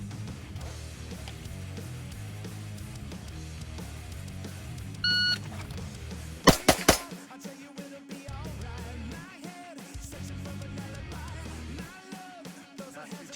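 Shot timer at a shooting range during practice with Walther PDP compact and full-size pistols: one short electronic beep, then three loud, sharp gunshots in quick succession, with background music throughout.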